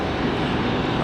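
An American Airlines heavy jet arriving from London Heathrow roars steadily at Raleigh-Durham airport, a loud, broad, continuous engine rumble with no talk over it.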